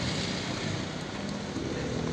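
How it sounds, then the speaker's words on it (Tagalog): Strong typhoon wind blows hard and steadily, a dense roaring rush of gusts buffeting the microphone, with no voices heard. "Ang lakas ng hangin, ah."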